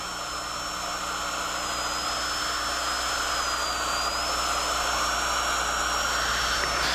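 A dental drill burr cuts grooves in a tooth for a stainless steel crown, its high thin whine holding steady and continuous for several seconds over a broad hiss, close and unbroken.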